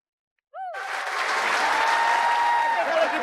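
A studio audience bursts into loud, sustained clapping after a short voice, the applause swelling and holding steady to the end on a TV talk show.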